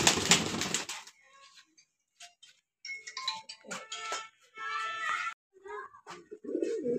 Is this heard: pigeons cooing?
yes